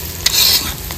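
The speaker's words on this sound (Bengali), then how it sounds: "দিয়ে দেবো পেঁয়াজ কুচি, আদা রসুন বাটা," Chopped onion frying with ginger-garlic paste, a loud steady sizzle with stirring scrapes, close and continuous with no talk.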